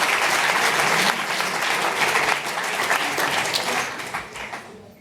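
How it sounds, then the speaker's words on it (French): Steady, full applause from an audience at a diploma ceremony, sustained clapping that tapers off over the last second. "je voudrais quand même qu'on applaudisse Nicolas Campissi"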